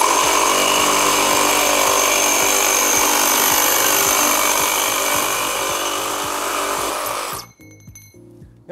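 A Makita JR002GRDX cordless reciprocating saw cuts at a higher speed setting, giving a loud, steady high-pitched buzzing whine up close that stops abruptly near the end, leaving faint clatter.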